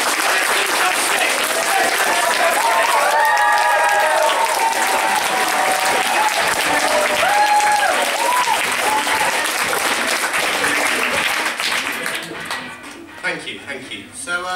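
A comedy club audience claps on request in a loud, continuous burst with cheering and voices mixed in, tapering off near the end as a voice speaks.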